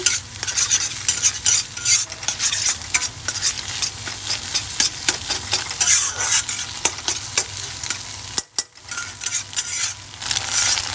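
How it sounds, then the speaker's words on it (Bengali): Eggs fry and get stirred in hot oil over a high gas flame for chicken chow mein, a loud continuous sizzle broken by rapid scraping stirs, close and without speech. "ডিমগুলো আমি ভালো করে ভেজে নেব।"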